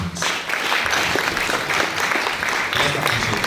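Sustained applause from an audience at a conference keynote, dense steady clapping filling the whole stretch at a fairly loud, even level.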